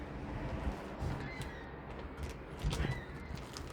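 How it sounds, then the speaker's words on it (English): A crow caws several times outdoors at sunset, loud and harsh calls rising over a continuous broadband background of wind or ambient noise. "That's the bird. That is the bird."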